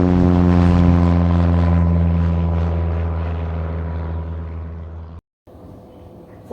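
A propeller airplane drones loudly and steadily with a strong humming engine tone, then cuts off abruptly before a brief quieter tail.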